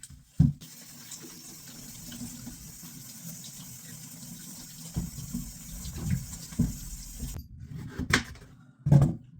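Tap water runs steadily into a pot for cooking beets, a continuous close gush with a few sharp knocks and clatters near the start and end as the flow is stopped.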